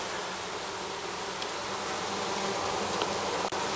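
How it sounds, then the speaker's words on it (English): A honey bee swarm from a foulbrood colony buzzes continuously, a dense close droning hum that stays even throughout with no voices. "I'm going to feed these bees something since they're starting from scratch."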